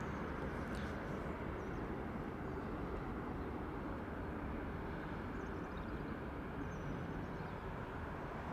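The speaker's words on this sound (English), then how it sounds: "What a beauty. Singapore A380. Soon to be followed in by the British Airways variant." A Singapore Airlines Airbus A380 airliner arriving at Heathrow gives a steady, broad jet roar held at an even level from start to finish, without any talk.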